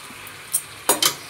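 Pointed gourd (potol) frying in a pan, with a faint low sizzle and a few sharp metallic clinks and scrapes from stirring, close and quiet.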